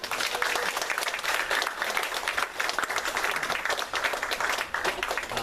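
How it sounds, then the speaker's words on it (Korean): A church congregation at a Sunday service applauds in celebration, a dense, steady burst of clapping from many hands filling the room without pause. "우리 축하의 박수 하세요."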